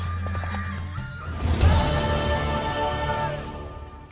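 A horse in The Witcher 3: Wild Hunt gives a loud, close whinny that rises and trails off, preceded by low snorting and a few hoof clip-clops, with no talking over it.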